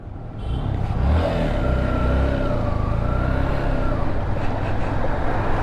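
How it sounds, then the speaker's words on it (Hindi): A motorbike engine runs steadily and loud after being push-started on a hill road, its mid-pitched drone holding throughout with a faint rising whine, recorded up close. "उन्होंने धक्का मार दिया और बाइक हो गई स्टार्ट।"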